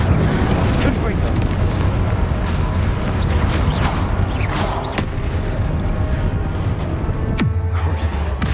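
Confringo fire spell blasts in Hogwarts Legacy, a dense run of booming, crackling explosive bursts over a constant rumbling bed of combat noise, with a sharp hit near the end, loud and close.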